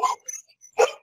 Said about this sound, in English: I hear a dog there,